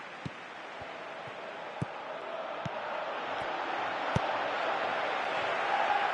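A stadium crowd roars in the PES 2018 football video game, a broad steady murmur that slowly swells louder, punctuated by scattered sharp clicks.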